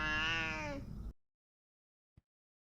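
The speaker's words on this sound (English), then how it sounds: "It's kind of nice that we got the cat with us." A cat in a horror video game gives one long, clear meow up close, then silence follows with a single faint soft tap.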